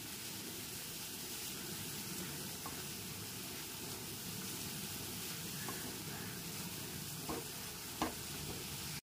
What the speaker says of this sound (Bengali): আদা, রসুন আর কাঁচা লঙ্কা বাটাটা দেওয়ার পর পেঁয়াজ বাটার সাথে খুব ভালো মতো একটু কষিয়ে নিতে হবে